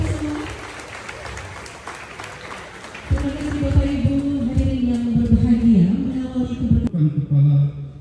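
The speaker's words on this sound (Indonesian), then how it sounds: "Tepuk tangan kita semua." An audience applauds in a hall, a dense patter of clapping in the opening seconds, then gives way to a loud voice speaking over a busy, reverberant room.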